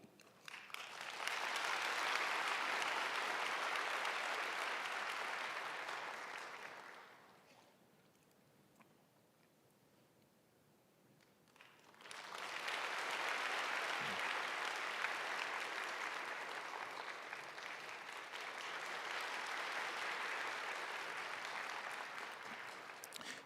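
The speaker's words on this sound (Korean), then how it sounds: "임원분들을 위해서 다시 한번 인사할 때 큰 박수를 부탁드립니다." Church congregation applauding during a Sunday service in a Korean church, loud sustained clapping for about seven seconds, a brief lull of near silence, then a second long round of steady applause.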